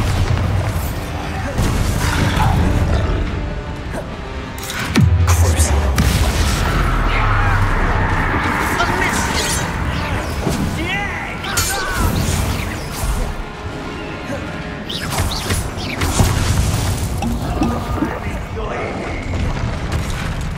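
Repeated Bombarda spell blasts in Hogwarts Legacy, a series of loud booming explosions and crashes spread over about twenty seconds among ongoing game effects, with a voice casting spells between them.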